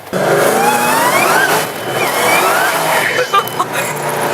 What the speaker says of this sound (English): It's very loud. It is a loud car.